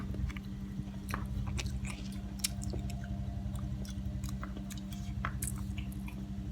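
Fried pork being chewed and bitten at a lunch meal, with soft, close, repeated crunchy-moist mouth sounds over a steady low background hum.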